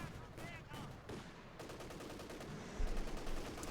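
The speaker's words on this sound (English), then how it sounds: "Again, aggressive machine gun play there." Machine gun fire in the Company of Heroes 2 video game, faint bursts of battlefield shooting beneath a commentator's voice.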